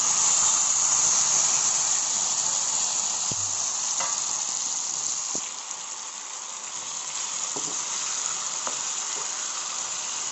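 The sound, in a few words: mango pieces frying in a pan for pickle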